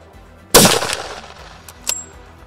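A rifle gunshot during a Nile buffalo hunt in Uganda, one loud close crack with a decaying outdoor echo, followed by a fainter sharp sound.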